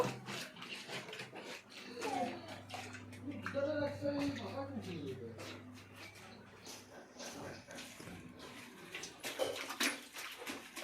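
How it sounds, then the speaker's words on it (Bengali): A blanket is washed by hand in water, with splashing, sloshing and scrubbing under steady talk and children's voices nearby. "এইভাবে আমরা পাড়ে পাড়ে ময়লাটা সাফা করব"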